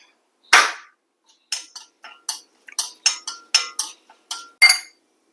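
Urad dal roasting in hot coconut oil in a pan gives sharp, irregular pops and crackles, one loud burst followed by about a dozen quicker snaps, close and clear with silence between them.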